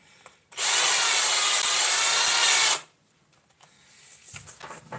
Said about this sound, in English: let's see if this thing can stand up to a power drill.